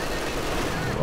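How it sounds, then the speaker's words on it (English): Sustained light machine gun fire from a veteran Grenadier LMG squad in Company of Heroes 2, a dense, steady clatter of battle noise filling the whole moment under a commentator's voice. "Beaming down this machine gun."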